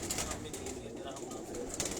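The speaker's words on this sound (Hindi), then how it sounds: "ये एक और कबूतर" Pigeons coo amid a busy, noisy background with some talk or crowd sound, the soft calls blending into a steady wash of ambient noise.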